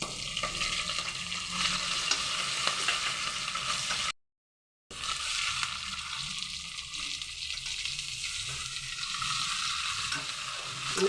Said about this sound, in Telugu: రొయ్య పొట్టు కూడా బాగా వేగాలండి